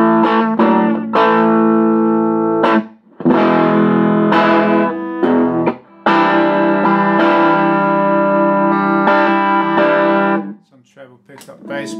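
An electric guitar plays through a 1971 Watkins Clubman valve amplifier with the treble turned down, giving chords and notes that sound distorted and fairly loud, with short pauses between phrases and a brief quiet tail at the end.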